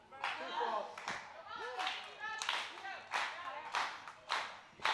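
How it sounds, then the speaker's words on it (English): During a match between Lady Frost and Dani Mo, a wrestling crowd claps in rhythmic bursts to rally behind Dani Mo, while a commentator talks over the clapping. "Crowd rallying behind Dani Mo."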